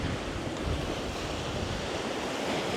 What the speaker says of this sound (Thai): มีลมทะเลพัดเข้ามา